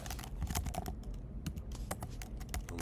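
Fingers tap rapidly on a computer keyboard close by, a dense, uneven patter of clicks with no talking.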